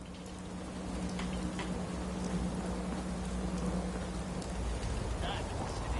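Steady rain falls in Fallout 4 as a dense, continuous hiss filling the whole stretch, with a low hum and faint patters underneath.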